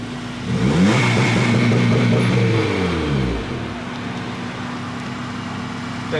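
A turbocharged car engine held on a two-step launch limiter, revving loudly and steadily with a rising and falling drone, then easing down to a lower idle-like rumble near the end.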